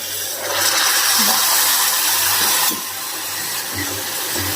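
Spinach water poured into a hot pan of cooking vegetables, a loud rushing hiss that swells for a few seconds and then settles into softer bubbling, close up.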